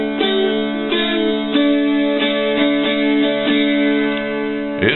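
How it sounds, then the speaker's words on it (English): Guitar strummed with a pick for Poor Wayfaring Stranger, five strums in an even rhythm sounding over ringing chords, clear and close, with no talking. "So it only has five strums instead of the six."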